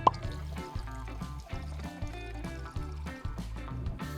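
Pineapple juice pours from four cans at once into a container, a continuous close liquid stream with gurgling pulses and splashes under faint background music.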